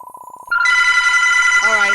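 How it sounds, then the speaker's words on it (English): In the video game Airplane Story 2, a telephone rings: a loud, bright, continuous electronic ring that starts abruptly after a softer pulsing tone, with a voice cutting in near the end. "Oh, the phone is ringing."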